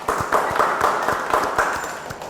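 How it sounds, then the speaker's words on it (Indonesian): Applause for the first student group in a university lecture classroom: a burst of many hands clapping at once, steady and fairly close, holding across the whole moment with no talk over it. "Kita berikan aplaus pada kelompok 1"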